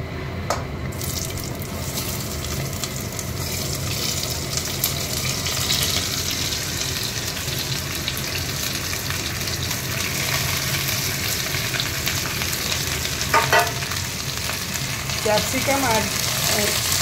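Mixed vegetables, everything except capsicum and peas, fry directly in a wok with a dense, loud, unbroken sizzle and scattered light clinks of stirring throughout.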